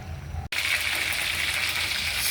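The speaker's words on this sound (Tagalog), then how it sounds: "So, nagpiprito na tayo ng manok." Chicken frying in hot oil for a home-cooked lunch, a dense steady sizzle that bursts in loudly after a brief quieter moment and then continues close and unbroken.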